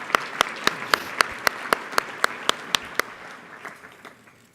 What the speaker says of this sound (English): if we could first give them a round of applause for their leadership and vision